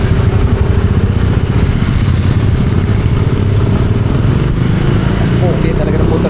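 A motorcycle rides along a rough road under construction, a continuous mid-pitched engine rumble with some clatter, close and steady throughout, with people talking over it.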